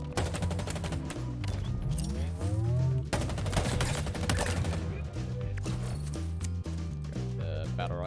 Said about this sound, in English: Got the battle rifle. Last shot.